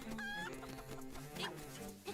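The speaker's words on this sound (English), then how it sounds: "I'm tired of listening to this chicken, by the way." A chicken clucking in a Legend of Zelda video game, short repeated game-sound clucks over soft background game music, fairly quiet and without talk.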